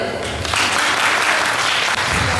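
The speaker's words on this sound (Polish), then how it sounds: "dziękujemy widzom, że klaskać się nie wstydzą" Dense, loud audience applause fills the hall at a Great Orchestra of Christmas Charity finale, continuous and even throughout with no pauses.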